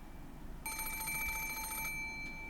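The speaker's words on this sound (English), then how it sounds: "suddenly the piercing sound of a phone rang through the room" An antique extension telephone on a table in a study rings with a bright bell trill that starts suddenly and lasts well over a second over a low room hiss. It sounds fairly close.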